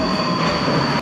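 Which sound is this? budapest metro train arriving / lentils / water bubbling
budapest metro train arriving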